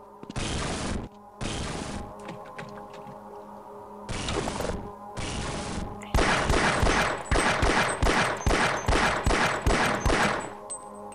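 Rapid zapping energy attacks from enemies in the video game Half-Life, set in the alien world Xen, come as bursts of harsh broadband crackle, first in separated blasts, then in a fast repeating volley, loud and close.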